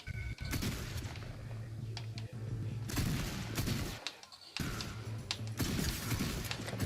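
Bursts of rapid gunfire crackle in several volleys with short pauses between, punchy and loud Fortnite shooting effects.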